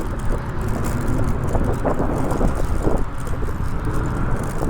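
A Kaabo Wolf King GT Pro electric scooter ridden over a rough road, a loud steady rush of wind and tire rumble with small bumps and rattles and no talk.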